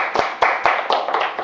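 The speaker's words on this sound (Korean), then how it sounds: "박수" Scattered clapping from a small seminar audience, a handful of distinct, loud claps in an uneven rhythm over a second and a half.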